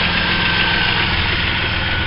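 A Holden VR Commodore engine idles smoothly after a spark plug change that cured a misfire, a close, loud and even rumble with a steady hum and no revving over the short stretch.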